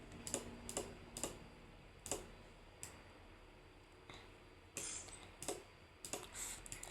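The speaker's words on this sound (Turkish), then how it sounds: "farenin sesini duyabilirsiniz yani şey bilgisayarın faresi mouse desem" Computer mouse clicking at home, a dozen or so sharp, faint clicks in an irregular rhythm, some in quick pairs, with no talking.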